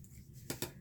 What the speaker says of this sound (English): just square these up with the scissors